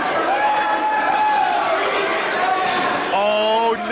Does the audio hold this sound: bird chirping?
no